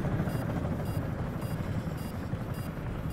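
Helicopter rotor chop in the video game Comanche: a steady, loud droning engine and rotor wash with periodic high-pitched pulses throughout.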